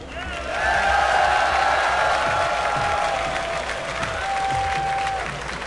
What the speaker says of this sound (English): Make some noise for Leenock.